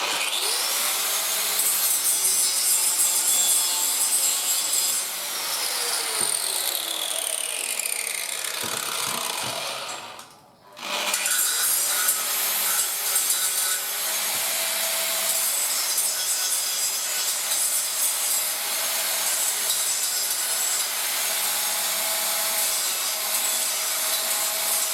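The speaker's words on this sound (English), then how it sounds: "Take a layer of the galvanise off so I can get the weld to stick to it." A handheld grinder strips the galvanised coating off steel before welding in a milking parlour, giving a steady loud abrasive whine that briefly cuts out midway and then resumes.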